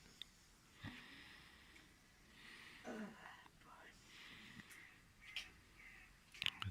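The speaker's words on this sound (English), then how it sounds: "That's a crow you hear." A crow caws a few times outdoors, the harsh calls fairly distant and spaced apart over a soft, breathy background murmur.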